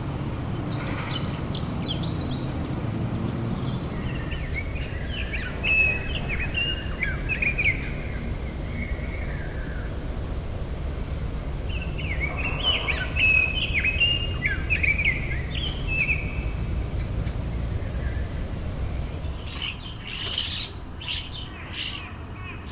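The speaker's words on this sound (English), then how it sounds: "Dunnock song." A dunnock sings outdoors in quick, high warbling phrases, repeated several times over a low steady background rumble, fairly close and clear.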